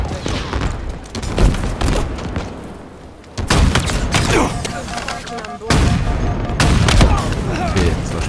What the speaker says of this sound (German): das erste, was wir machen, sind Granaten rüberschmeißen